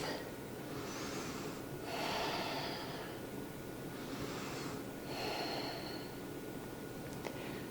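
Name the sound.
deep breathing during yoga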